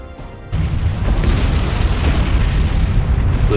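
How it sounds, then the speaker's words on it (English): Warship magazine explosions in the naval game War on the Sea: a loud, deep boom hits suddenly and rolls into a sustained, heavy rumbling roar. "we've just had 2 magazine explosions"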